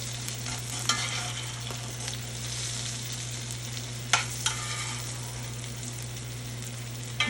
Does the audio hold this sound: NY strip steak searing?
yes